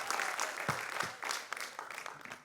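A crowd at an Independence Day cultural programme claps for a young tabla accompanist, a quiet, somewhat distant patter of many hands with a few sharper individual claps standing out.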